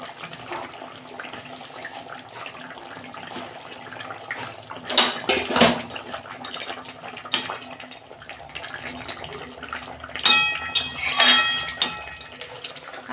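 Fish pieces go into a simmering fish curry with potatoes and ridge gourd: soft bubbling underneath, with two clusters of wet splashes and pot clinks up close.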